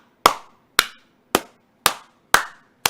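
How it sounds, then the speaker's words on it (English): Six sharp, evenly spaced single claps at about half-second intervals, close and loud, each ringing briefly in a quiet room. "Slow clap."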